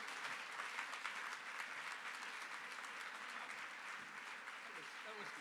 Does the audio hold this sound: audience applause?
yes